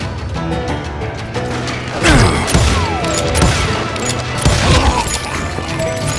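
Gunfire in the Call of Juarez video game comes as a steady barrage of shots, thuds and crashes over a continuous busy game soundtrack. The sound is loud and close, with no one speaking.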